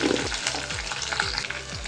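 Onion, curry leaves and green chilies frying in oil after mustard and cumin seeds, a bright dense crackling sizzle with soft regular thumps of stirring, close and steady.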